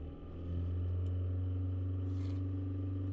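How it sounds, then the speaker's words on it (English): A 2019 Kia Forte with a replacement engine and camshaft timing fault revs as gas is given, its steady low hum rising slightly in pitch and staying loud and close. "Now let's give some gas, see what happens."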